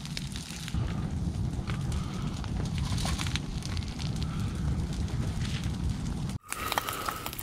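A campfire burns at a winter campsite while food cooks over it, giving a steady, close, broadband crackle and low roar that cuts out briefly near the end before resuming.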